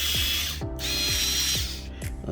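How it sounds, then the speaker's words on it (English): A power driver runs close by, whirring and ratcheting in short pulses as it backs screws out of a Samsung washing machine suspension. "4 screws I have to take out of here."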